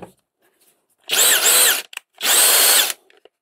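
Two loud bursts of a power screwdriver driving a screw into the casing of a Parkside impact driver during repair, each whirring for under a second with a short pause between, close up and with no talk.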